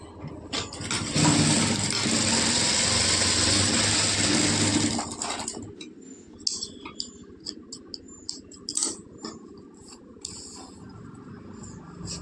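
A sewing machine runs steadily for about five seconds while stitching a lining blouse, then stops, leaving scattered light clicks and fabric handling noises close by.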